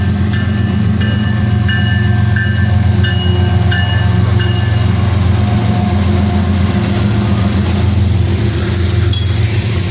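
Kansas City Southern freight train rolling past close by, a loud, steady heavy rumble of locomotives and cars with a continuous low roar and squealing wheel tones over the full stretch, with no voices.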